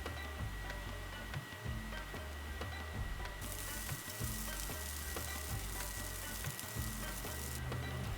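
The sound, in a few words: frying Big Mountain Cauli Crumble veggie grounds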